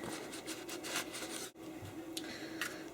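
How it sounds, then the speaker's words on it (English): Cloth rubbing over a Heckler & Koch HK45 pistol as a clean dry towel wipes it down, a close, steady scuffing with a brief pause partway through. "now we're just going to wipe it down with a clean dry towel"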